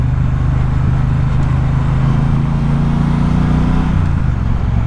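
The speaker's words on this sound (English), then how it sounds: "Second gear is such a lovely sounding gear." A Triumph Speedmaster motorcycle engine runs loud and close in second gear, a steady low throbbing drone under continuous wind rush, with a slight pitch drop near the end.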